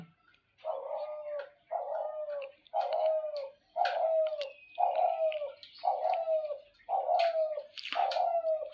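A dove coos in a steady repeating rhythm, about eight low warbling calls evenly spaced and close by, with faint higher birdsong in the background.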